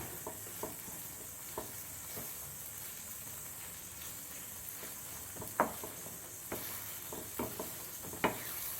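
Rava kesari thickening in a pan, a soft steady sizzle and hiss with occasional scraping stirs and light clinks, fairly faint and without voices.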